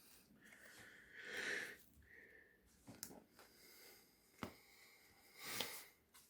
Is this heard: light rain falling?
no